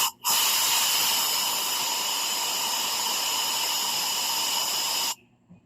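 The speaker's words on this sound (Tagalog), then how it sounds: "Tapos bugahan natin ng hangin ang intake at saka exhaust." Compressed air blasted into the exhaust port of a Yamaha Mio i 125 motorcycle cylinder head: one loud, steady hiss of about five seconds that starts and stops abruptly, close by with no talk.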